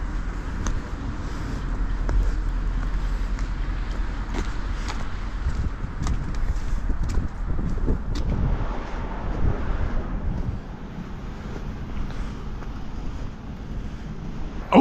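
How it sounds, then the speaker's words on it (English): Strong gusty wind on an extremely windy afternoon in Hespeler, Ontario, buffeting the microphone as a continuous deep rumble with surging gusts throughout, loud and close with no speech. "the wind was blowing directly into my face"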